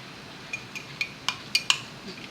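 Samosa dough being mixed with ghee in a bowl gives a series of light clinks and taps, about seven spaced contacts that grow slightly louder, close by over a quiet background.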